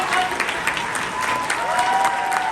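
Audience applause after a student candidate's speech at a Kentucky Youth Assembly high school session, loud continuous clapping from a crowd with a faint voice or tone running underneath.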